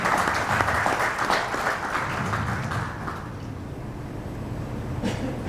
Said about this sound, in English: A big clap for Sonia.